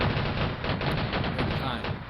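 Troops firing in a Civil War battle at Antietam, heard as a continuous crackle of massed musket fire, dense and steady throughout.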